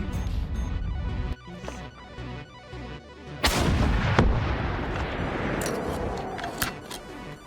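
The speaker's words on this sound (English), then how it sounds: "Missiles incoming." Loud video-game missile strikes and explosions, with booming impacts and sharp blasts piling up over several seconds, heaviest about midway, in a road-building transport simulation.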